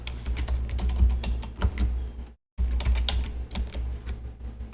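Rapid, steady keystrokes on a computer keyboard, close and fairly loud, with a brief silent break midway before the typing resumes; no voices.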